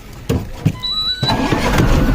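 A car engine cranks with a brief whirring squeal, catches and settles into a steady running rumble close by, loud and continuous by the end, with no talking over it.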